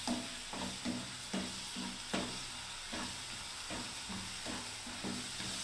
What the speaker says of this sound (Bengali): দেখুন এবার আমি আস্তে আস্তে বন্ধুরা সুজিটাকে দিচ্ছি